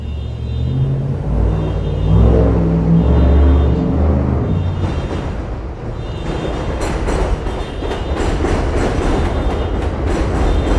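New York City subway train rumbling past up close in the Bronx, loud and continuous, with a heavy low roar that gives way to rhythmic clattering of wheels over the rail joints.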